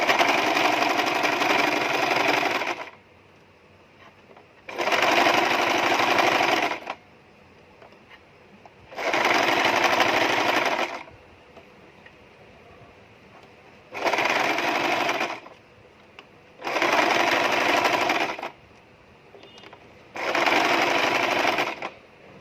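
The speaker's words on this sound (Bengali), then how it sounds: "এখানেও ডাবল সেলাই দিয়ে দিচ্ছি।" A sewing machine double-stitches a princess-cut nighty in six bursts of steady whirring, each two to three seconds long, separated by short quiet pauses, close and clear.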